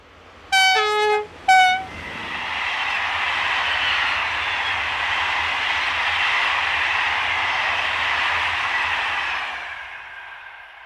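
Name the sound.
French train 26040 passing on the Paris to Orléans line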